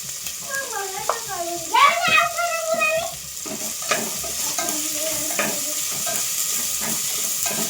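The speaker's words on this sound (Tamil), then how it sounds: "நல்லா வதங்கட்டும் எல்லா காய்கறியும் போட்டாச்சு" Mixed vegetables sautéing in a pan with turmeric, salt and chilli powder, a steady sizzle running throughout with scraping stir strokes, loudest in the first few seconds, while a person talks over much of it.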